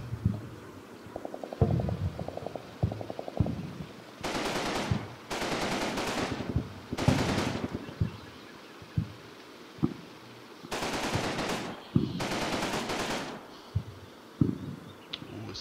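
Machine gun fire in the World War II game Combat Mission Battle for Normandy, several long sustained bursts at medium distance broken by short pauses, mixed with scattered single shots and rumbling battlefield ambience.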